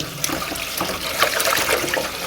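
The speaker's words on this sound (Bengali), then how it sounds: "ভালো করে মাছগুলোকে ধুয়ে নিচ্ছি।" Tap water splashing steadily in a kitchen sink while raw prawns are rinsed, a continuous close trickle and spatter with small irregular splashes throughout.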